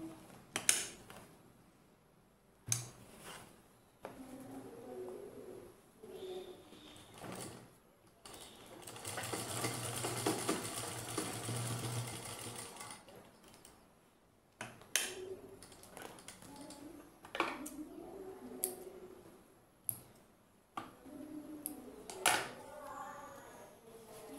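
A sewing machine stitches elastic on a dhoti salwar in a sustained whirring run mid-clip, surrounded by scattered taps, clicks and handling noises of the fabric, faint overall.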